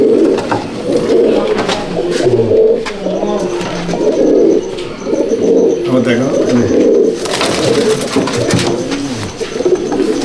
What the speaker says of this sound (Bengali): এইখানে দুটো পায়রা আছে, একটা আমার ঘরের পায়রা, একটা ইকবালদার ঘরের পায়রা।